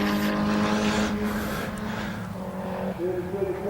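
Race car carrying speed through a sweeping corner on a track at a national top-ten shootout, engine loud and close with a rising pitch and a brief shift near the end.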